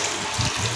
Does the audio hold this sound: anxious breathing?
no